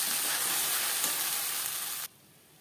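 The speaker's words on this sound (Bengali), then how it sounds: "20-25 সেকেন্ড ভেজে নেওয়ার পর দিয়ে দেবো টমেটো, আদা ও কাঁচা লঙ্কার পেস্ট" Tomato, ginger and green chilli paste hitting hot oil spiced with five-spice, giving a loud, steady close sizzle that cuts off abruptly near the end.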